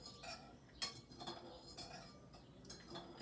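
A spoon stirring salt into water in a container, quiet clinks and taps of metal against the vessel at an irregular pace, faint and close, with no talking.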